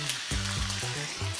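Beef with green onion and carrot is stir-fried in a pan, with close, steady sizzling and a few rhythmic stirring scrapes.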